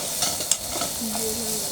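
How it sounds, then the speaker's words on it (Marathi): Spices with turmeric and salt are sautéed in a pan, giving a soft, steady sizzle with a couple of brief stirring scrapes, fairly quiet and close, with no voices. "छान मसाले परतून घ्यायचे"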